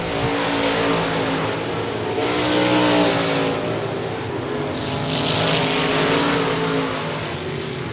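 Race cars circling the I-37 Speedway oval, engines roaring and revving loudly in overlapping waves as the pack sweeps past, steady and close with no talk.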